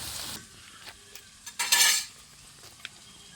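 Chicken with spices being stirred and sautéed in a pan, a spatula scraping and clinking against metal in short strokes over a soft sizzle, with one louder burst of frying noise midway; no one speaks.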